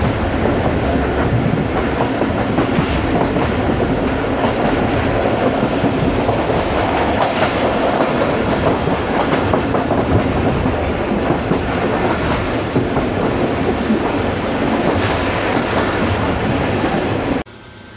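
A train runs through the Seven Sisters tunnels, its loud, continuous rumble and rhythmic wheel clatter filling the whole stretch before cutting off abruptly at the end.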